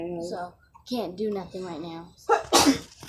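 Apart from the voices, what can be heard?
sneeze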